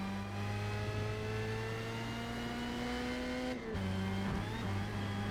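A Formula Mazda race car in Forza Motorsport at Indianapolis Motor Speedway, its engine holding a steady, loud drone with a brief dip in pitch partway through, like a gear change, before it picks up again.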